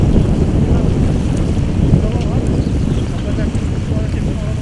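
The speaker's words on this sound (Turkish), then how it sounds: "Donanma gemileri İzmit Körfezi'nden Ege'ye açılmak için geçiş yaptı." Turkish Navy warships pass through the Gulf of İzmit during a large naval exercise, heard as a loud, steady rumble of engines and water mixed with heavy wind buffeting.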